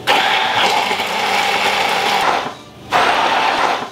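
Electric kitchen mixer whipping an egg with peanut oil into mayonnaise, a loud steady whirring motor that runs continuously, briefly stops, then starts again.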